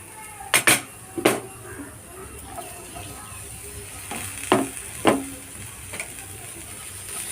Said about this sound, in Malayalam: ഇനി ഇതിലേക്ക് ഞാൻ ഉരുളൻകിഴങ്ങാണ് കേട്ടോ ഇട്ട് കൊടുക്കുന്നത്.